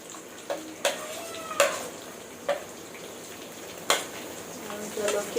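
Onions sizzle and fry in a pan as part of a savoury chickpea and paneer dish, a soft steady crackle under scattered clinks and taps of stirring.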